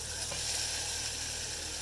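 Battered food frying in hot oil at a cabin, a steady, faint, hissing sizzle throughout with no talking.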